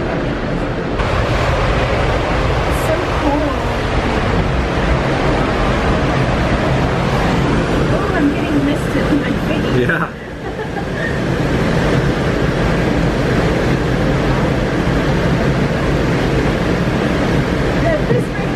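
Steady, dense rushing water roars throughout from a waterfall in downtown Spokane, Washington, loud and continuous nearby, with a brief dip midway and faint voices mixed in.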